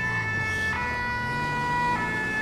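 Fire engine siren in the video game GTA 5, a loud continuous wailing tone that pitches up and down steadily, close by, with engine rumble underneath and no talk.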